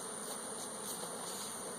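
Honey bees buzz around an opened hive from which the top nucs and queen cage are being removed, a dense, steady hum of many wings that holds close and continuous with no voices.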